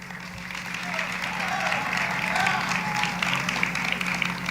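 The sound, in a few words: audience applauding nominees at an award show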